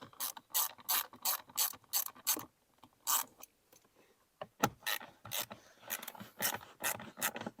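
A ratchet wrench backs out 8mm screws from the heater blower motor of a 2009-2013 Toyota Corolla, sounding as close, loud bursts of rapid clicking pawl strokes in repeated runs with short pauses, with no talking.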